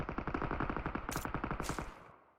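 Rapid automatic gunfire from the mobile shooter PUBG Mobile, a dense run of close, loud shots in steady rhythm for about two seconds, with a brief hiss-like burst mixed in before it tails off.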